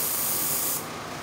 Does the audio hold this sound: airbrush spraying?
yes